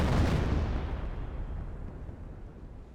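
A US M2 mortar barrage lands in a Company of Heroes battle, giving one heavy, booming explosion that rumbles and slowly fades over a few seconds, fairly distant and muffled, with no talk.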